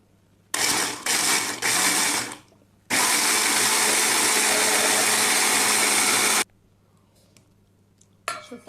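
A small electric food chopper grinds walnuts in loud bursts, a few short pulses and then one long continuous run, with quiet clinks between.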